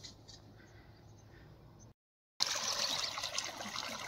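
Water trickles and splashes from a pipe out in a farm field at night, a steady, close rush that cuts out briefly and then returns louder and fuller.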